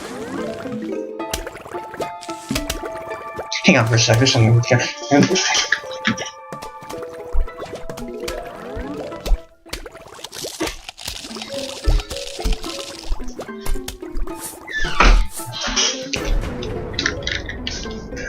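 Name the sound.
water sounds from the bathroom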